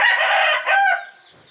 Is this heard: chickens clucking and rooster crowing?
yes